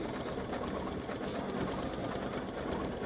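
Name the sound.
embroidery machine stitching an applique design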